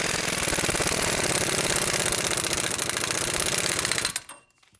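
A power tool snugs a 36 mm nut onto a front wheel bearing on a GMC Envoy, producing a loud, continuous rapid hammering rattle for about four seconds before cutting off into silence.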